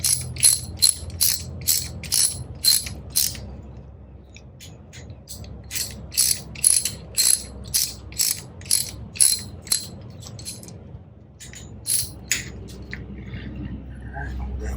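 Ratchet with a 10mm socket tightening a nut on a 2018 Honda CRF250L Rally sprocket, sounding as crisp rapid clicking bursts in several rounds, close and clear, over a low background hum.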